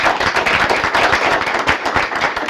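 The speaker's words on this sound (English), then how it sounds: "we owe Dr. Dixon a round of applause" Steady applause from a crowd at a college board of trustees meeting, dense rapid clapping that holds at an even level throughout with no voices standing out.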